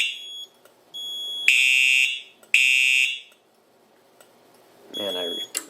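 A piercing electronic fire alarm from a Simplex system sounds in loud steady bursts, stopping and starting twice, then cuts off; a brief voice follows near the end.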